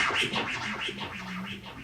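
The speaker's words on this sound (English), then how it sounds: "Then that simple chop can now sound like this." DJ scratch chop run through a mixer echo effect, a series of quick swishing record scratches in a loose rhythm, smeared and trailing with echo, moderately quiet and with no talk over it.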